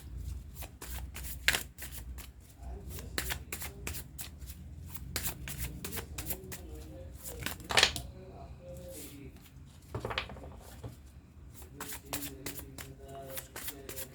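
Tarot cards are shuffled by hand in quick, repeated riffling bursts with brief pauses between them, close and fairly quiet, with a voice talking at times.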